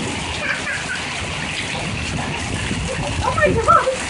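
Hail pelting down during a spring storm in Noblesville, heard from a covered porch as a steady dense patter and splatter, with a few sharper impacts near the end.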